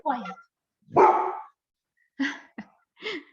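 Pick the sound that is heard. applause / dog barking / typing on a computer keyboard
dog barking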